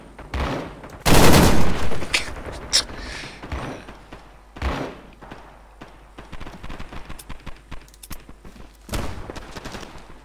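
Gunfire in the Vietnam War shooter Rising Storm 2: Vietnam, street fighting in Hue City, with a loud close burst of automatic fire early on, then scattered shots and sharp cracks, some near and some distant.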